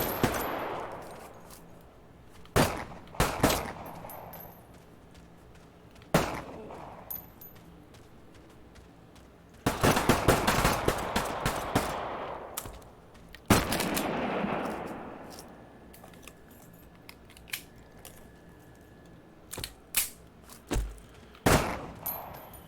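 Gunfire in the VR shooter Blood Trail: sharp, loud single shots and short bursts repeat irregularly, some ringing out with reverberant tails between quieter gaps.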